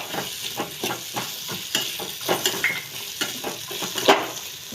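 Green peas stir-fried in a pan with crushed ginger and garlic make a soft sizzle, with repeated spoon scrapes and stirring strokes at a steady pace, close and moderately loud.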